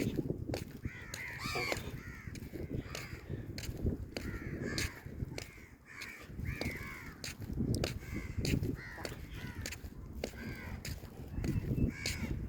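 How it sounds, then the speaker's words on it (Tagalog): Many crows caw repeatedly and overlap by the sea in Jizan, Saudi Arabia, harsh calls coming from several directions over a steady outdoor background, fairly close and loud. "Daming uwak."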